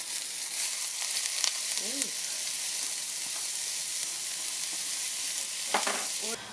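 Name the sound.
diced onions frying in oil in a pan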